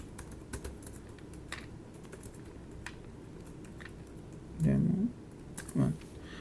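Close, steady clicking of a computer keyboard as a business name is typed in, with brief bursts of a voice speaking over it near the end.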